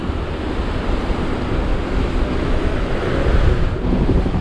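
Steady roar of ocean surf at Candelaria, Tenerife, with gusting wind buffeting the microphone; a continuous broadband wash with no voices.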